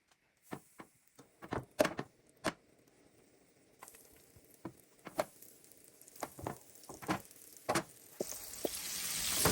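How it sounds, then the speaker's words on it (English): Flour-coated fish dropped into hot oil, popping and crackling in sharp irregular spits that build into a steady, louder sizzle toward the end. "Fish is now coated in the flour, so let's go and fry it."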